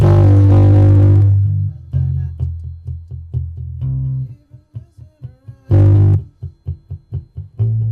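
A distorted electric bass plays a repeating riff, long sustained notes alternating with quick choppy plucked notes, loud and upfront with no voices.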